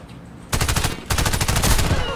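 Automatic weapon fire in the shooter game Warface, loud rapid bursts starting abruptly after a quiet moment, briefly pausing, then resuming in a dense continuous volley.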